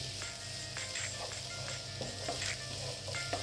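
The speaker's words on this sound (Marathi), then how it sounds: "आता हे पण व्यवस्थित याच्यामध्ये परतून घ्यायचं आहे, म्हणजे मिरचीचा, आल्याचा, लसणाचा पण मॉइश्चर कमी होईल" Green chili, ginger and garlic sauté in a pan with a steady close sizzle, broken by soft scraping strokes as they are stirred. No one speaks.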